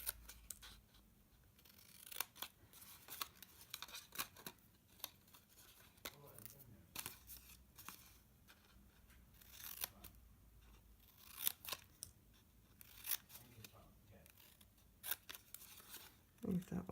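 Scissors snip notches into card for a gift box, a long run of soft, close crisp cuts at an uneven pace with occasional paper rustling and quiet talk between.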